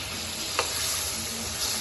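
Tomato masala for a masaledar biryani frying in a pot with tamarind just added, a steady close sizzle with a brief stir clink partway through, no talk.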